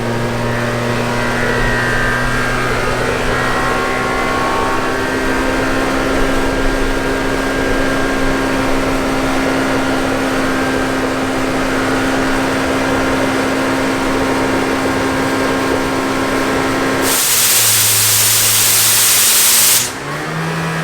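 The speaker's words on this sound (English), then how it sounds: "He's powering up now. He's gonna show us a couple blasts of the force of this freaking thing." A truck-mounted blasting machine runs as a loud, steady mechanical drone with a constant hum, then near the end unleashes a roaring burst of hissing, high-pressure blast for a few seconds before cutting back.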